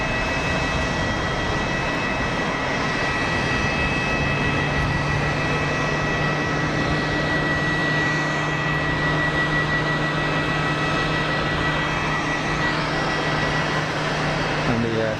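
Turkish airliner jet taking off at Geneva Airport, a steady broadband engine roar with a sustained low hum, heard from a distance under faint background noise and no speech in the clip.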